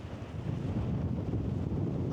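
Steady, heavy wind buffeting the microphone, a continuous low roaring rumble with no break, fairly loud throughout.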